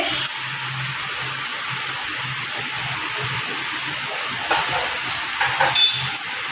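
Chicken simmering on low heat in a pot, giving a steady steamy hiss with a faint low bubbling beneath and a couple of slightly louder surges toward the end.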